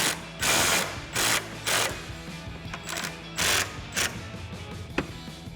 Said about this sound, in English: grab our 10mm socket and tighten these down